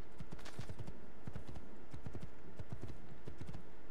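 Horse hooves clip-clopping in Assassin's Creed 2, a steady, fairly slow rhythmic gait of repeated thuds over a constant game ambience, with no talk.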